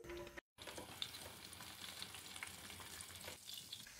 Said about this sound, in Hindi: आटे को हम तकरीबन 5 से 6 मिनट भून लेंगे।